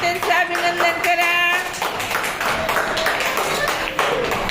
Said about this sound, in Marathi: सर्वांनी टाळ्या वाजवून त्यांचं अभिनंदन करा.